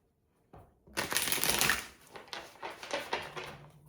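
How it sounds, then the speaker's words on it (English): A deck of tarot cards is shuffled by hand, a sharp riffling burst followed by a few shorter rustling shuffles, close and clear with no talking. "Give it a couple shuffles."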